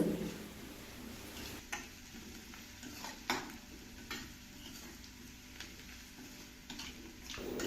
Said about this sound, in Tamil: அந்த கொத்தமல்லியும் புதினாவும் நல்லா எண்ணெயில் கொஞ்சம் நேரம் வதங்க விடுங்க